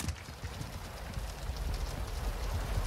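Running footsteps in Call of Duty Modern Warfare 2 team deathmatch on the Shipment map, a quick, rhythmic patter of close, loud steps over game ambience, with no talking.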